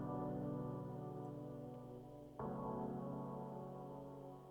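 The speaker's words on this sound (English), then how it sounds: "I decided to layer that up with another pad." A sustained synth pad one-shot from a 76 Collective kit, dry with no effects, holding warm layered chords that swell and briefly dip before re-attacking and ringing on, loud and alone.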